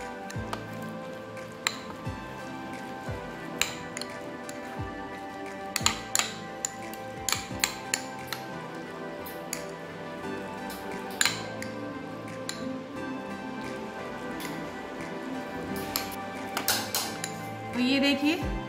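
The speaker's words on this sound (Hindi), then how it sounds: "मैंने पत्ता गोभी को मेयोनीज में एकदम मिक्स कर लिया है इस तरीके से" Shredded cabbage is mixed into mayonnaise for a vegetable sandwich, with a spoon clinking and scraping against a bowl in irregular taps and soft squishy stirring over a steady background hum.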